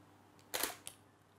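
A camera shutter release during close-up macro photography of a coin, one sharp clean mechanical click followed by a softer second click, close and alone in a quiet room.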